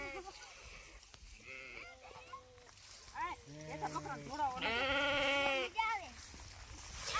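Several sheep and goats bleat in repeated wavering calls, some close and loud, others farther off, with faint outdoor background noise.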